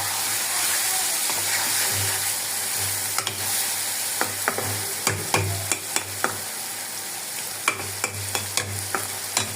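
Curry masala is stir-fried in a pan over a continuous sizzle, with a run of sharp spatula scrapes and clacks growing more frequent toward the end, close and fairly loud.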